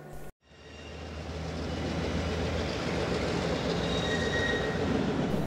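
A Santa Cruz, Big Trees and Pacific excursion train hauled by a pair of ex-Santa Fe CF7 diesel locomotives rolls past nearby, a loud steady rumble of wheels and engines with faint high squeals, and no voices.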